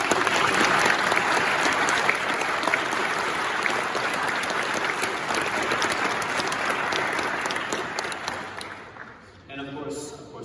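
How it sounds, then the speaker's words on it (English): A graduation audience gives a speaker a long, dense round of clapping, loud and steady for about nine seconds before tapering off into quieter room sound. "let's get a big round of applause for him"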